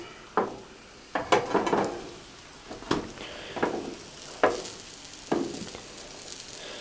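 Keto French toast fries in butter in a pan, a soft steady sizzle broken by several sharp clattering bursts of utensil scrapes and turns at irregular intervals, close and fairly loud, with no talking.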